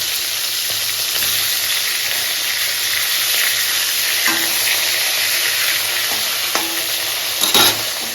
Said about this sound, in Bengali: মাছটা হচ্ছে ভাজা